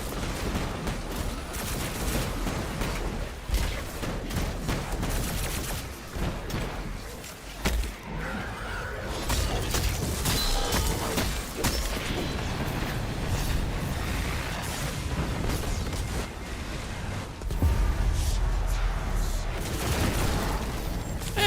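Detonations and gunfire in the Guardians of the Galaxy video game, a long stretch of dense, loud booms and bursts layered over continuous game noise, with a few heavier blasts standing out.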